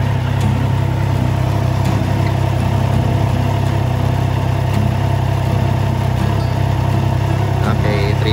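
A 2025 Triumph Trident 660 motorcycle idles at a steady, even RPM, its continuous engine drone close and unchanging across the whole stretch, with faint background noise around it.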